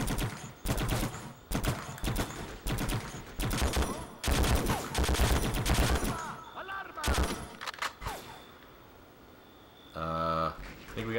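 Loud bursts of automatic gunfire in the Xbox game Conflict: Global Terror, rattling in rapid volleys with short gaps between them, then a sharper, distinct burst near the end.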